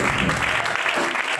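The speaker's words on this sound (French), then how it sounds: "Oui, acclamons-le." Steady applause from a church congregation during an evangelical service, many hands clapping together in a sustained dense wash with crowd voices blended in.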